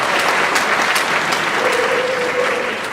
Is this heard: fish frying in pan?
no